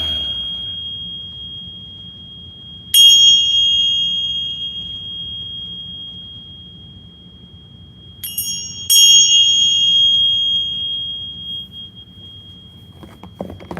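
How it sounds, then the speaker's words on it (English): A bell is struck three times, the first ring lingering alone before two quicker strikes follow close together, each leaving a clear, sustained high tone that fades slowly. "we'll ring the bell"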